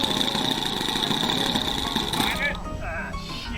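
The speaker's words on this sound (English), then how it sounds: "All right, that engine sounds great." An OS 26 four-stroke nitro engine runs on an RC Clancy Mini Bee model plane at a club flying field, a steady buzzing drone throughout that shifts pitch near the end, heard from fairly close outdoors.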